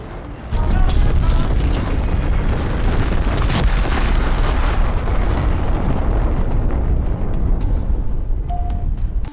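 Meteor strike in a computer-generated scene, a sudden deep explosion that swells into a sustained loud roaring rumble with crackling debris, filling the space almost to the end.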